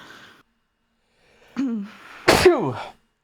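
A single sharp, close sneeze from a person on a live stream, preceded by a brief breathy vocal catch, with silence around it.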